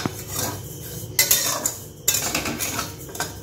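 Broken wheat dry-roasted in a pan, heard as loud, gritty scraping and clattering of a spatula stirring the grains against metal in short bursts, close up with no talking.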